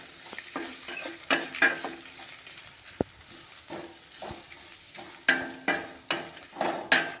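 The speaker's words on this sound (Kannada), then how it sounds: "ಈ ಕೊಬ್ಬರಿನೂ ಇದ್ರೊಳಗೆ ಹಾಕಿ ಹುರ್ಕೋಣ" Grated fresh coconut roasts in a pan for masala bath, with a spatula scraping and stirring in irregular strokes over a soft, steady sizzle. It is close and moderately quiet, with no talking.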